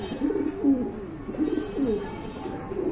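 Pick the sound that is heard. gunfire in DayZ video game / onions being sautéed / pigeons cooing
pigeons cooing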